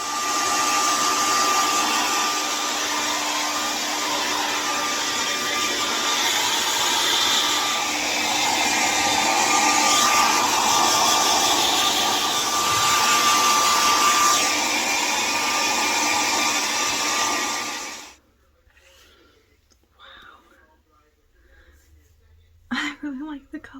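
A handheld hair dryer blows steadily and loudly on freshly dyed deep burgundy-brown hair for about eighteen seconds, then cuts off abruptly, leaving near silence with a brief rustle at the end.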